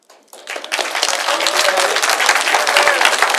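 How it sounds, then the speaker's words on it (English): Audience at a district council meeting bursts into applause after a brief quiet moment, dense clapping building quickly and holding steady and loud throughout. "Please refrain from clapping."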